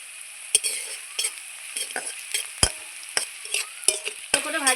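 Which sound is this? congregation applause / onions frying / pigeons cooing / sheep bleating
onions frying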